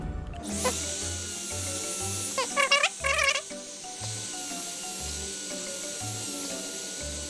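A small high-pitched tuning drill whirs continuously nearby, with a thin electric whine and pulsing low hum, briefly interrupted by short meow-like squeaks.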